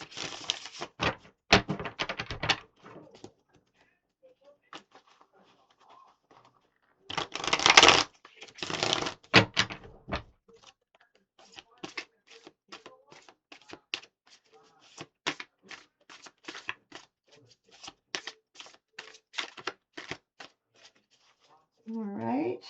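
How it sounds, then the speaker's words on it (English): Bursts of crisp riffling and flapping as a deck of tarot cards is shuffled, several rounds with pauses between, close and clear, with brief talking. "Shuffle these a couple more times."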